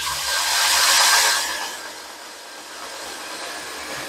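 A grinder mounted on a lathe runs up against metal shims, giving a steady, loud whooshing whine that swells and then settles into an even hum, with no talk.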